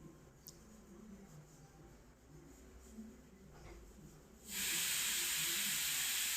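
Spices with salt, turmeric and chili powder sizzle in hot oil for a sambar-style curry, a low crackling hiss that suddenly swells into a loud, steady broadband sizzle after a few seconds.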